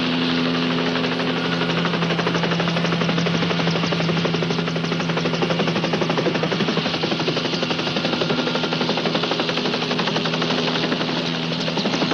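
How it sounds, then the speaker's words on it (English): A helicopter flies during a police kidnapping standoff on a highway patrol, its rotor and engine making a loud, steady drone with low humming tones that continues unbroken for the whole stretch, with no talking. "Come on back, Copter."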